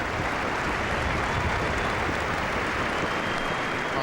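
Spontaneous applause from a large stadium crowd at Croke Park during a National Football League Gaelic football match, a steady, dense wash of clapping and crowd noise heard from a distance without pause.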